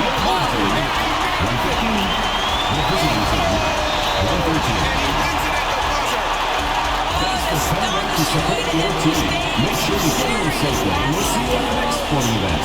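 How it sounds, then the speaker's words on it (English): A home basketball crowd for Gilas Pilipinas against Auckland roars after a double-overtime victory, a loud, dense wall of cheering and whooping that holds steady throughout, with sneaker squeaks and shouts mixed in. "So the home crowd happy here as they get the victory."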